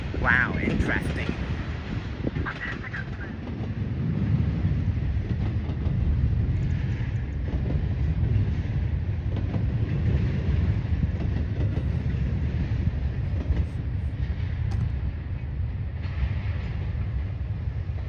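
A long CSX freight train with flat cars rumbles steadily past at close range in Ohio, its low roar and rattling cars continuous throughout, with some wind buffeting the microphone.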